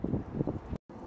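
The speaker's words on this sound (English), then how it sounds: "that wind gust that we just got was probably easily over 60 mile an hour" A strong Chinook wind gust batters the microphone in rough, roaring bursts, then cuts off abruptly before the rushing resumes.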